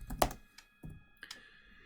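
A few separate keystrokes on a computer keyboard while a search query is typed into a database tool, short and fairly quiet clicks with gaps between them and no talking.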